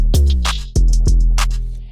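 A synth in FL Studio plays loud notes with pitch slides, gliding from one pitch to the next in a short phrase of several plucked-sounding tones.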